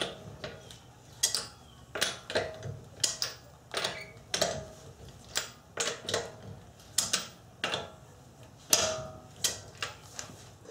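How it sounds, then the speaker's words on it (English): Breaker bar with a 19 mm socket loosening car wheel lug nuts, heard as a series of close clicking, ratcheting and creaking snaps in an irregular rhythm, fairly quiet, with no talking. "I have a breaker bar with a 19 millimeter socket, and let's just break the lugs loose"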